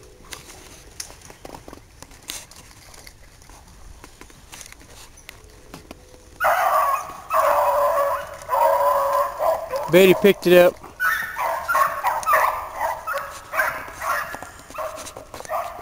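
Hunting dogs bay and bark in a mucky swamp, a loud burst of overlapping calls arriving midway and continuing irregularly, while someone speaks briefly near the start over a quiet outdoor background.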